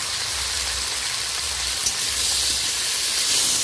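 Washed, fried lentils hit a hot pan and set off a loud, steady hiss and sizzle like heavy rain that goes on unbroken throughout.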